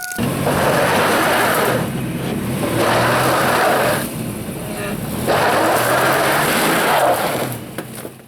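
An old GMC Jimmy truck engine, unstarted for about two months, cranks and turns over in repeated loud surges with pauses between attempts, close by.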